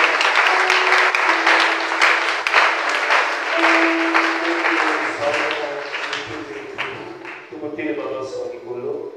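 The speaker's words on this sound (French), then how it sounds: "Est-ce que quelqu'un peut encore acclamer pour la parole?" Church congregation applauding at a Sunday service, a dense, sustained wash of clapping that holds loud for several seconds, then thins and tapers while faint voices and a low rumble come through underneath.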